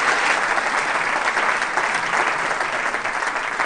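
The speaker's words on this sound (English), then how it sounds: "Give him a big round of applause," Dense audience applause for a panel speaker at a tourism and destination-management conference, steady and fairly loud throughout with no break.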